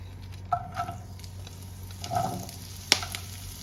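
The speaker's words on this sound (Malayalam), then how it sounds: "ഈ ചെറിയ ഉള്ളി മുരിങ്ങയുടെ പൂവും കൂടിയിട്ട് ചേർത്തൊന്ന് വഴട്ടും" Small onions and drumstick flowers sautéing in ghee give a faint, low sizzle broken by a few soft stirring scrapes and one sharp utensil click.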